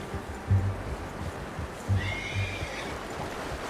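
A horse in Red Dead Redemption 2 gives two short snorting whinnies a second or so apart, fairly close, over a low outdoor ambience with faint hoof movement.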